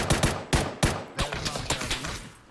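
Rapid gunfire in PUBG comes as a string of sharp, loud shots in quick uneven bursts, fading slightly toward the end, with no talking over it.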